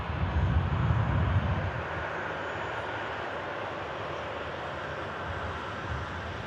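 A Gulf Air Boeing Dreamliner taxis out for Bahrain, its engines a steady broadband rumble that swells slightly early on, then holds an even roar, with no voices.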